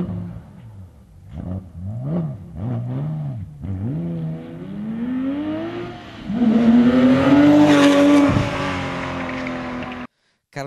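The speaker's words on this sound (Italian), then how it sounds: "una bellissima Porsche Cayman che ci ha fatto provare al circuito di Ortona" A Porsche Cayman drives on the Ortona race circuit, its engine rising and falling through gear changes before building to a loud, sustained high-revving pull, close and prominent.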